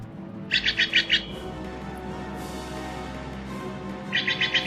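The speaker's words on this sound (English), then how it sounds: "This one is more of my favorite bird, the Stellar's Jay." A Steller's jay gives two bursts of rapid, harsh repeated calls, one near the start and one at the end, over a steady background hum, with no voices.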